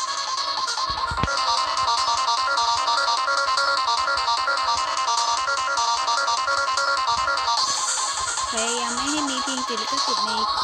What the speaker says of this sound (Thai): มีเสียงเตือนด้วย